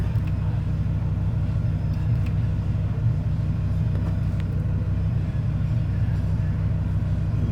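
A Dodge Viper with 121K miles idles in traffic, its low, steady rumble close and continuous throughout, with faint road noise around it.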